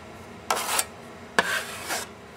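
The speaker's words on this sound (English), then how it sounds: "Use a 6-inch putty knife and some drywall mud. Just fill that right in. I'm going to wipe off the excess." A 6-inch putty knife scrapes excess drywall mud across a wall in two separate rasping strokes, each a short, close scraping swipe with a quiet pause between them.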